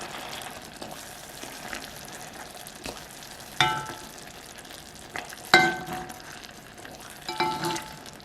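Tomatoes softened with their skins split and juices released, mashed and stirred in a hot pan over low heat, giving a steady soft sizzle and frying hiss broken by several louder scraping, clattering stirs.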